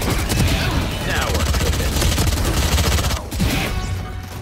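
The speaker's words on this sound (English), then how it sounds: "Oh my god, a three bullet burst just killed someone" Rapid gunfire bursts in the tactical shooter Valorant crackle loudly and densely for several seconds, with a voice talking over the clatter and a brief dip near the end.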